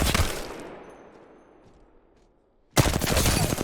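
Rapid gunfire bursts from an R9 weapon in Apex Legends, a dense close volley that rings out and decays, followed by a short silence and a second loud automatic burst.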